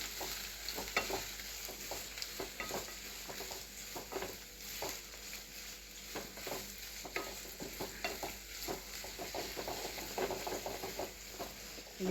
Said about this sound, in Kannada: ಸಾಸಿವೆ ಜೀರಿಗೆ ಚಟ್ಪಟ್ ಅನ್ಬೇಕು ನೋಡ್ರಿ